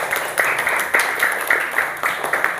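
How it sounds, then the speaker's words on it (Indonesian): A class of students claps together in a short, rhythmic burst, with distinct sharp beats repeating roughly every half second. "Tepuk tangan untuk kita semua."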